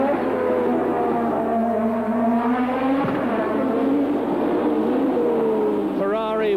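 A 1982 Formula 1 race car engine at Long Beach on the overrun, its high engine note falling and rising with crackling gear changes, loud and continuous under a commentator's voice.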